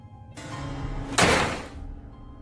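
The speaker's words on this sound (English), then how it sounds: "the door slams shut and he's locked out." A door slams shut with one loud, sharp impact partway through, after a low ambient hum, and the bang rings briefly before fading back to the background.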